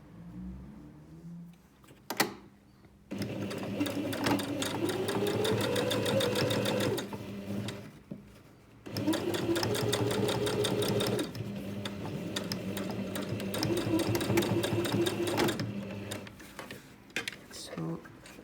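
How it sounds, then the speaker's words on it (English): A sewing machine runs in two long, steady bursts of rapid mechanical stitching while edge stitching a fabric iPad mini cover, with brief pauses and small clicks between the runs. "I'm going to do an edge stitch to close that gap"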